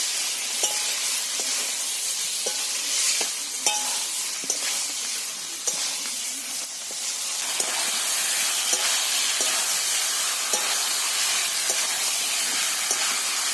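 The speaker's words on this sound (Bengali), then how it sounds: "এবার আমি এর মধ্যে ভেজে রাখা আলু আর লাউটা এর মধ্যে দিয়ে দেব দিয়ে একসঙ্গে নেড়ে করে ভালো করে কষে নেবো" Fried potatoes and bottle gourd are stir-fried with spices for a fish curry, giving a loud, continuous hissing sizzle broken by regular light clicks of the stirring spoon, with no voices.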